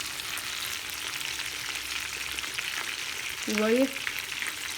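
Breaded chicken sizzles loudly in hot oil for homemade KFC-style fried chicken, a dense continuous crackle from start to end, briefly joined near the end by a short spoken remark.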